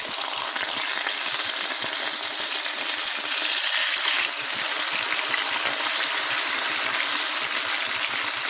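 Swai fish fillet sizzling and frying steadily in a hot pan while being flipped, a loud, continuous crackling hiss with no talk.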